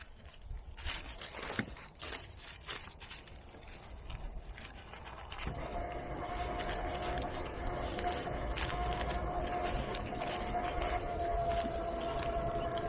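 Paper shredder chewing through paper: a sputter of cutting bursts and clicks early, then a steady louder grinding whir with a sustained motor tone, close up and without speech.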